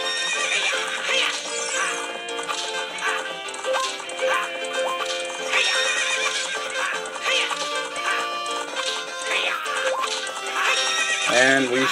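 Several horse whinnies ring out over steady clip-clopping hooves and game music in The Legend of Zelda: Ocarina of Time, with faint voices talking now and then.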